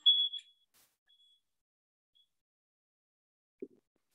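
A single shrill high-pitched smoke alarm beep rings out, followed by faint brief chirps, near silence and then a dull low thump.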